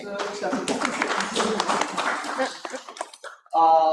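Scattered clapping from a group at a real estate team meeting, uneven and moderately close, fading out before a voice begins speaking at the end.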